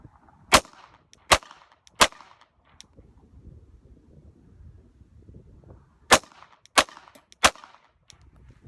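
Pistol shots ring out during a shooting drill in two sharp strings of three evenly spaced cracks, separated by a quiet stretch of low background noise.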